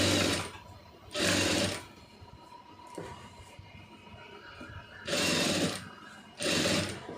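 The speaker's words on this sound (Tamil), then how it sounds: "கரெக்டாக லைனிங் பீஸ்லேயே வந்து தையல் போட்டுருங்க." A sewing machine stitches the lining of an Aari-work blouse in four loud bursts of steady whirring, two early and two late, with a quieter gap of rustling fabric between them.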